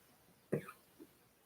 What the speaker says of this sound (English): now I'm on the verge of a coughing fit